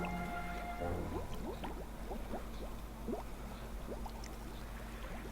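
A potion being poured in the video game Wonderbook: Book of Potions gives a continuous liquid trickle with bubbly, gurgling glugs, close and clear over faint game background sound.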